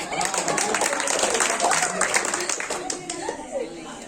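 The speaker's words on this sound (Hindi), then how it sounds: "इसलिए जोरदार ताली से स्वागत।" An audience at a school ceremony for matriculation results claps steadily and loudly for several seconds, with chatter mixed in and the applause tapering at the end.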